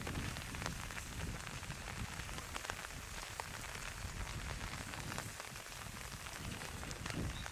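Steady rain pouring over an outdoor football pitch during a match, a dense, even hiss of drops on surfaces that holds without letup, fairly soft, with no voices.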